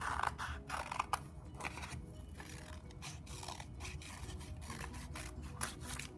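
Scissors snipping a leaf shape from folded green paper, a steady series of soft crisp cuts and scrapes close by, quiet and unaccompanied by speech.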